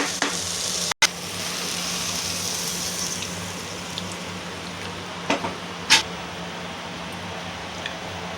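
Broad beans (chikkudukaya) fry in a pan with a steady, close hiss of sizzling oil, broken by a sharp knock near the start and a few faint clinks.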